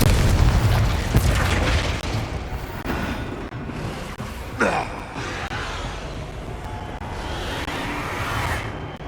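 Spell-blast explosions from Confringo in the Hogwarts Legacy video game, with heavy booming bursts over a rumbling battle backdrop and one sharp whooshing pop partway through, lingering low noise throughout.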